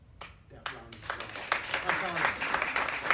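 An audience starts clapping at a furniture showroom presentation, building from a few scattered claps into fuller applause, with a voice speaking over the start.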